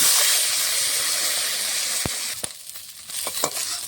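Fish frying in hot oil, a steady close sizzle and hiss with a few sharp crackles and pops toward the end.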